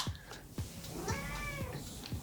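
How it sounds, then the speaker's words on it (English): A cat meows repeatedly in the background, a drawn-out, wavering cry in the middle, over a low, steady room hum with soft periodic thumps during a NAS media server PC build. "there's Puss again meowing in the background"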